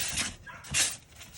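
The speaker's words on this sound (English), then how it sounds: "My dog's barking in the background." A pet dog barks in the background, two or three muffled, mid-distance yaps spread over a brief moment, and nobody speaks.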